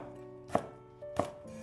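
Two sharp knife chops on a cutting board as bird's eye chilies are sliced into rings, spaced about half a second apart with a low background hum between them.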